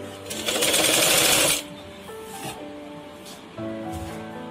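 A sewing machine stitches fabric in a close, loud whirring burst of about a second and a half, then stops, leaving quieter tones and faint background noise.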